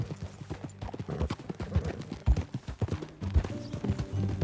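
Horses' hooves clip-clop at a riding pace in Red Dead Redemption 2, an irregular run of close, thudding hoofbeats with some tack rattle underneath and no speech.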